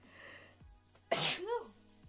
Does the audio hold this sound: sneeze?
yes